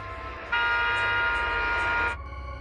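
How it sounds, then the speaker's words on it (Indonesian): A car horn sounded by a policeman, one sustained blast of about a second and a half that starts abruptly and cuts off, loud and close over a low background rumble. "suara klakson mobil yang dinyalakan si polisi pria"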